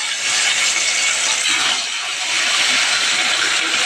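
Rohu fish pieces sizzle in hot oil in a wok, a bright, steady hiss of frying that holds for several seconds with no talk over it.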